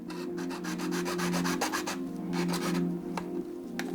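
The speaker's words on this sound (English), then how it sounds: "I'm going to cut it with my handy dandy hacksaw blade" A hacksaw blade cuts through plumbing pipe, a close, rapid back-and-forth rasping in quick strokes with no one talking.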